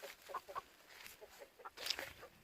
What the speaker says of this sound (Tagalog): Yan yung aming mga manok.